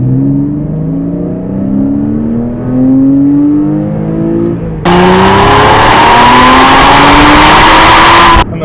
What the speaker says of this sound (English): this car is a screamer, and she just makes a beautiful song